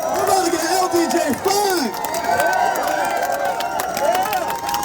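A crowd at an Amazon Labor Union rally fills a room with loud, continuous babble and scattered cheers, with voices rising and falling close by throughout.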